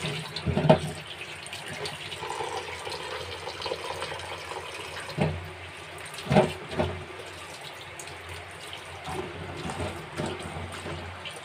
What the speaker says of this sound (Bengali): পরিষ্কার পানি বের হওয়া পর্যন্ত ধুতে থাকবো